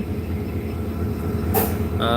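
Passenger train drawn by a Hyundai Rotem locomotive at a Bangladeshi station, a steady low rumble with a brief hissing burst and a short tonal blast near the end.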